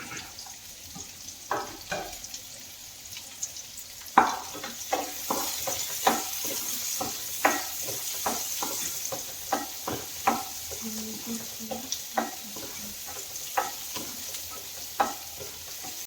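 Shallots fry in hot oil for a Kerala kadala curry, giving a steady close sizzle broken by frequent sharp spoon-against-pan clicks and scrapes from stirring throughout.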